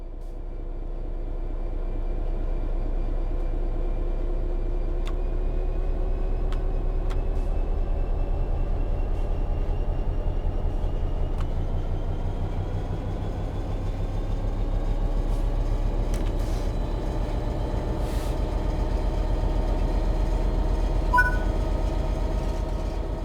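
Train in Train Sim World 3 pulling away under throttle, a steady low engine and traction-motor drone with rising tonal whine, continuous and close, building gradually with a few faint clicks and no talk.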